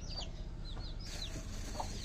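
Chickens foraging in grass on a farm give soft, steady clucks with a few higher chirps over a constant low outdoor rumble, moderately near.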